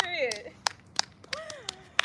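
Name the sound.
people clapping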